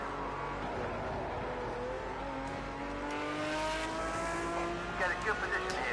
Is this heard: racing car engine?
yes